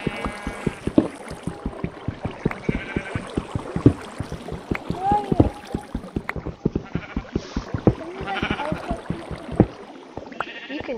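Sheep in the block-building game Eaglercraft bleat repeatedly, several close, wavering baa calls spread over about ten seconds amid rapid clicking and tapping sounds from gameplay.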